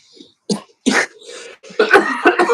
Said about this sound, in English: you cough at the worst times.